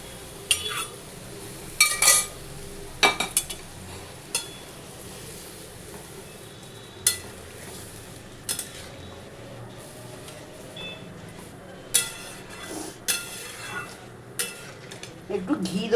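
Pressure cooker rinsed and filled with a little water in a home kitchen, with scattered clanks of metal and splashing, soft steady running-water noise underneath, close and moderately quiet.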